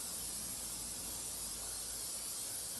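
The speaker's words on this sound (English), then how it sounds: "so Joe's spraying it from the back side" Garage door lubricant sprays steadily onto a rusty door hinge in a storage unit, a continuous close hiss lasting the whole moment without a break.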